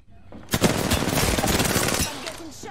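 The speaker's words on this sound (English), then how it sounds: "I'm getting shot at." A sustained burst of rapid automatic gunfire in the video game Apex Legends rattles loud and close for about a second and a half, then fades into faint background game sounds.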